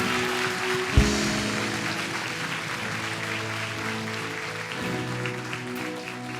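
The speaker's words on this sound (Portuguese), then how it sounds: "Você pode dar um aplauso bem forte ao Senhor?" A congregation at a church service applauds, soft steady clapping beneath a sustained organ or keyboard chord, with a brief thump near the start.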